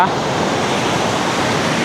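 Ocean waves surging into a rocky tidal pool at Dalugan Beach, a loud continuous wash of roaring surf close by with no break.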